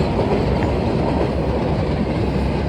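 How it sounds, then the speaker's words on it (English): A fast freight train passing close by at about 40 mph, a dense, loud roar of rolling wagons and wheel rumble that holds steady throughout with no voices. "Wow, I can see that there's another freight train."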